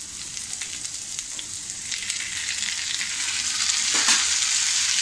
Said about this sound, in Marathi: आता आपण याच्यामध्ये टोमॅटो टाकूया.